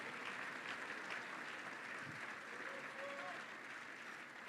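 A church congregation applauds loudly and steadily, a dense wash of clapping that fills the space from start to finish without letting up.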